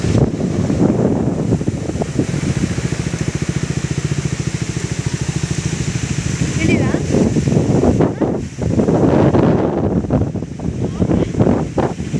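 Loud wind buffeting the microphone over a roar of falling water, with a steady engine-like hum for a stretch in the middle.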